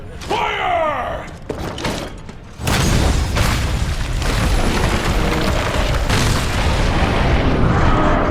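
Dragonator cannon firing in Monster Hunter World, a sudden loud broadband blast followed by a sustained heavy rumble of booming impacts, with brief game voices heard before it.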